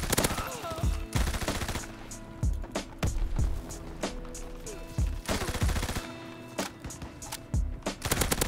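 Rapid-fire bursts from the ORSO gun in the game Call of Duty WWII, loud stuttering automatic volleys repeating every second or so, with brief pauses between bursts and no talking.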